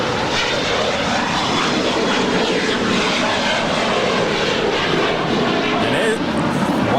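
An airliner roars at Los Angeles LAX on a flight bound for Guatemala City, its engine noise loud and sustained without a break.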